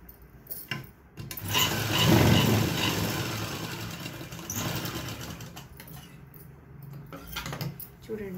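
A sewing machine stitches the lining of a blouse, its motor whirring steadily through the middle of the clip with brief pauses before and after.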